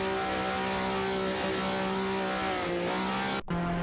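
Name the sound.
race car engines revving in a video game race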